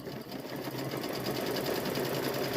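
A sewing machine runs steadily while stitching around a quilted Halloween tote bag, its close, continuous whirring motor and rapid needle rhythm filling the whole stretch without any talk.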